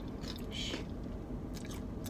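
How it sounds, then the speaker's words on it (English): Crunchy tortilla chips are bitten and chewed up close, giving a few quick crisp crunches over a low background murmur. "Who shush while they eating chips?"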